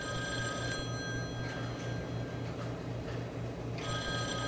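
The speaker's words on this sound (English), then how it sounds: "the telephone at the other end should begin ringing." A telephone at the far end rings after a number is dialed on old switching equipment, giving repeated electric bell trills over a steady line hum, heard alone without talk.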